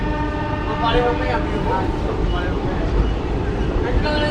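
A train pulling away from Jagraon station after a short halt, a steady loud rumble of wheels and rolling carriages with tonal mechanical hum throughout, heard from aboard, with a voice talking over it.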